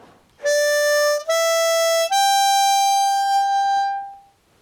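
Three sustained, reedy harmonica notes, each stepping up slightly in pitch, played loud and clear before fading out.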